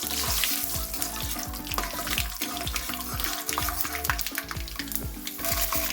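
Peanuts and mustard seeds fry lightly in a pan, giving a steady close sizzle and crackle with faint knocks and tonal clinks of a utensil against the pan throughout, no voices.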